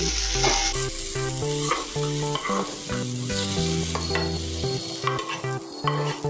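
Tomatoes frying briefly in a pan for dhaba-style palak paneer, a loud continuous sizzle over a hum of stirring, with a few clinks of a utensil on the pan, no talking.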